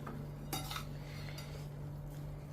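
Spicy-sweet bhel puri being tossed in a bowl, with a quick burst of spoon clinks and scrapes followed by fainter rustling over a steady low electrical hum, no voices.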